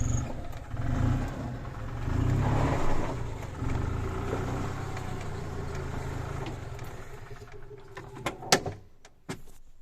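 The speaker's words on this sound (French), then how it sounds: "Si j'appuie sur la pédale, le moteur démarre." A golf cart engine starts on its own when the pedal is pressed, giving a steady low motor rumble that swells slightly, then a few clanks and knocks as it settles, with no talk.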